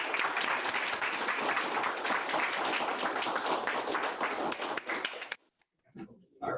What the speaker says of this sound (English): let's give these veterans another round of applause for a very job well done